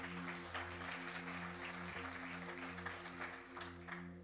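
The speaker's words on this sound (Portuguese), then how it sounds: "Você pode dar um aplauso bem forte ao Senhor?" A church congregation applauds loudly and steadily, with a sustained wash of clapping over a low, droning background tone.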